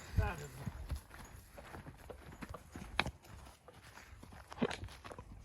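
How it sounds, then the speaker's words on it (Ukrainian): Hooves clop irregularly on hard ground as a Belgian draft mare walks nearby, with people talking over the steps. "Такі коні привозять на паровку до Алана, такі кобили потужні, бельгійка чиста"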